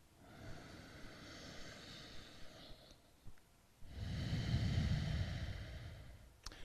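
Slow, deep breathing during a yoga breathing exercise, a long airy exhale of about three seconds, a short pause, then a louder, fuller breath lasting about two and a half seconds, close to the microphone with no talking.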